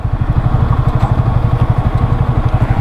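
A motorcycle engine idles close by with an even, rapid thumping pulse, loud and steady, during a roadside stop on a road trip.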